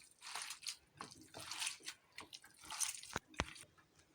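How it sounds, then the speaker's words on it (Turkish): Hands knead a meat filling for Şanlıurfa-style kazan kebab, making soft wet squishes and slaps in an uneven rhythm, close and quiet. "Evet şimdi bunu yoğuracağım. Bir güzel yoğuralım bunu."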